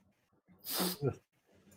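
A single person sneezes close by, one sharp burst with a short voiced tail, between faint background murmur.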